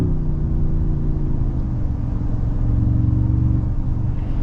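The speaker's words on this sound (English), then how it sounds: "I'm just playing with the throttle right now and you can hear it." Engine of a 2024 Toyota Tundra TRD Pro hums at low pitch from inside the cab as the throttle is worked, a close, steady drone that shifts slightly in pitch without sharp revs.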